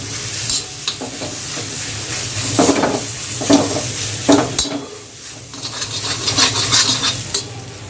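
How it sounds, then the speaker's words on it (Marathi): Chili, raw mango and peanut thecha fries in a little oil, giving a steady close sizzle broken by bursts of stirring and scraping against the pan. "तर चांगलं आता आपण तेलामध्ये याला फ्राय करून घेऊया."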